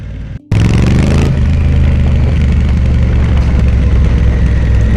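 An adventure motorbike engine runs steadily while riding on the Isle of Thanet coast, a loud continuous low drone starting after a brief gap, with wind noise over it and no talk.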